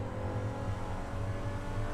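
Vagner supercar engine in GTA 5 on a straight: a steady, droning engine note holds at an even pitch with a low rumble, close and continuous throughout.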